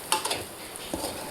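Japanese fish frying in a pan with onion, garlic and green chilli while being stirred, a soft sizzle broken by a few quick scraping stirs close by, no voices.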